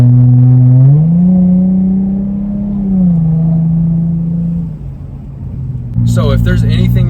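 A lowered Hyundai Genesis Coupe 3.8 V6 on H&R springs accelerates hard on a winding road, its engine note climbing steadily through the revs before a shift, with a voice talking over the end.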